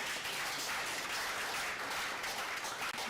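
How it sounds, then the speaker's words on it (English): Dense, steady clapping from a crowd at an outdoor party campaign rally, a continuous broadband patter that keeps going at full strength throughout with no voices over it. "I thought you would have clapped to that."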